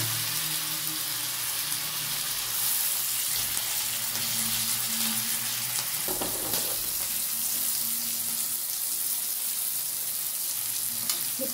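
Green peas and coriander leaves sizzle in hot oil in a wok, a continuous crackling fry with occasional stirring scrapes and no voices.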